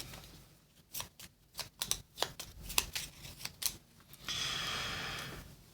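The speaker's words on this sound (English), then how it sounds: "And then we get to shuffle." Playing cards shuffled during a solo board game campaign, a run of crisp riffling bursts and snaps at close range, ending in a longer steady riffle, with no talking.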